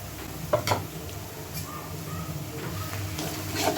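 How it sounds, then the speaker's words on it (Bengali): Spices and onion frying in a pan with a steady low sizzle, broken by a couple of clear spatula scrapes and stirring knocks near the start and again near the end. "এবার এটা ভালো করে আগে পেঁয়াজের সাথে ফ্রাই করে নেব"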